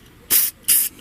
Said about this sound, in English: you spray it on, it goes on and dries completely, leaving a Teflon film in its wake